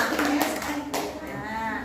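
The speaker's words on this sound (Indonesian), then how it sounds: "tepuk tangan buat kelompok dulu" Schoolchildren in a classroom clap for a group of classmates, a short burst of scattered handclaps mixed with a teacher's voice talking over them.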